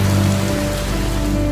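Heavy rain pours in Mexico City, a dense continuous hiss of drops hitting surfaces, loud and close with a low steady rumble beneath and no talk.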